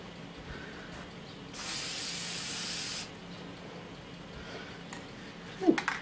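Aerosol spray can of lacquer hissing onto model trains in one steady burst of about a second and a half, loud and close, with quiet room noise around it and a small clatter near the end.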